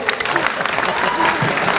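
Guests at a wedding in France applaud during a singing competition, a loud, continuous crowd clapping that runs the full length with some voices underneath.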